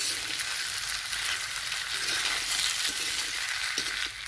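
Taro (arbi) frying in an iron kadhai crackles with a steady, moderately quiet sizzle, with a few faint stirring knocks near the end.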